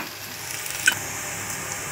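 Garlic dropped into hot oil in a frying pan while cooking a Konkan cashew-fruit and prawn dish, giving a steady close sizzle with a brief louder crackle burst near the middle.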